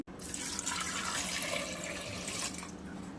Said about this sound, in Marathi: त्याच्यात ना एक तांब्या पाणी टाकून घेतले